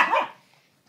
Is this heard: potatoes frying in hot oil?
no